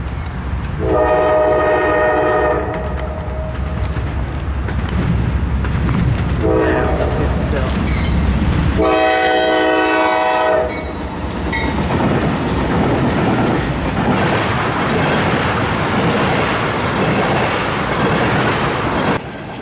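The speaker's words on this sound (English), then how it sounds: "As this train rolls by" A Norfolk Southern freight train with NS and Conrail boxcars rolls past close by, its loud horn blasting in repeated bursts over continuous rumble and clattering wheels on the Logan branch.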